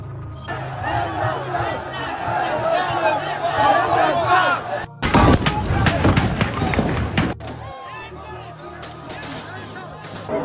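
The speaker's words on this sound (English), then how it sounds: "They're shooting us!" Live gunfire at a street protest on 20 October 2020: a dense burst of sharp cracks and pops over a shouting, agitated crowd, with loud chaotic yelling and babble throughout.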